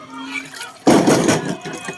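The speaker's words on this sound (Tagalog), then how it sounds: "Lakas talaga ng tubig oh." Floodwater rushing into a raised-floor house during a sudden flood, a loud sudden surge of gushing, splashing water that starts partway through and continues near and steady.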